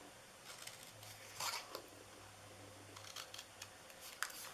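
Scissors snipping the corners of cardstock for a Christmas tree treat box, a few short crisp cuts spaced irregularly against a quiet hum, close by and fairly soft, with no talking.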